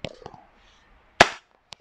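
A WE Hi-Capa airsoft pistol fires a sharp, loud crack, followed half a second later by a fainter second snap. Softer clicks and ticks of handling come before the shots, and no voices are heard.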